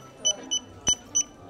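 A checkout barcode scanner at a Leroy Merlin hardware store gives four short, high electronic beeps at uneven intervals, fairly faint and close, with no talking over them.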